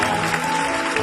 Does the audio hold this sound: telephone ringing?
no